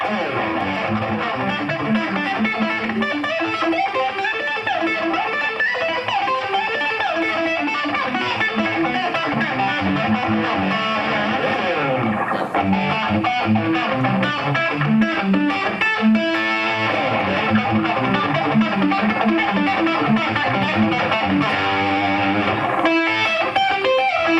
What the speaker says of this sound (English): So you can use this technique with some distortion, something more aggressive.